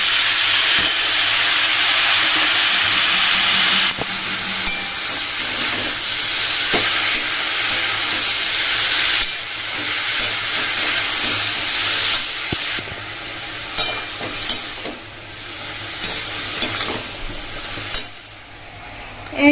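Elephant foot yam stalks fry in a pan, a loud, steady sizzle and hiss with intermittent stirring scrapes, fading into softer, uneven crackling toward the end.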